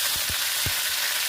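Masala hitting hot oil for a mutton curry, a brief, loud, hissing sizzle with a few soft taps beneath it.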